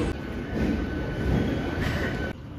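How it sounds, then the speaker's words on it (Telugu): An MMTS commuter train arrives at a station in Hyderabad with a loud, continuous rolling roar and rumble. A faint high squeal runs through it, then the noise drops off abruptly near the end. "ఎంఎండిఎస్ ట్రైన్ అయితే వచ్చింది."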